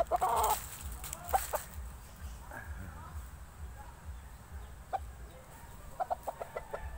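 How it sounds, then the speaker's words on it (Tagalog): Gamecocks, fighting roosters in Bonbon, Oslob, Cebu, Philippines, clucking in short soft bursts and a few quick clucks near the end, with someone talking over a low outdoor background. "Ito mga pansabong na manok, dito sa Bonbon, Oslob, Cebu, Philippines"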